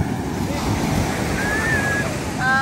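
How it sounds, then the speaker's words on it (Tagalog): Ocean surf rolling and crashing on the shore in a steady, loud wash mixed with wind buffeting the microphone, as a voice calls out over it. "Takot ako sa alon!"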